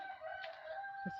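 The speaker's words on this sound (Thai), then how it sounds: "ไล่ไก่ก่อนเด้อ" Chickens clucking and crowing around a rural Thai home, heard faintly and fairly distant under a steady tonal background, with one short low cluck near the end.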